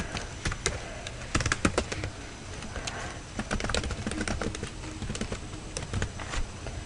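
Keys clatter on a computer keyboard in an irregular run of light, close taps against a steady background hiss.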